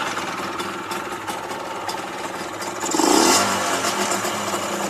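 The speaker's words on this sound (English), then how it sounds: "The idle is pretty lumpy, and it was just leaking some petrol from the overflow." A Yamaha DT50MX two-stroke motorcycle engine idles unevenly on choke, putting along roughly and then swelling briefly as if blipped, close and fairly loud.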